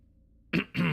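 Two quick throat-clearing coughs, close and fairly quiet, come from a livestream host after near silence, the second a little longer than the first.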